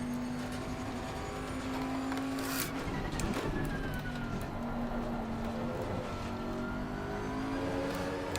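Bentley GT3 race car engine in Assetto Corsa Competizione at Kyalami, a steady sustained drone with rising and falling pitch as it revs, loud and continuous with no talk.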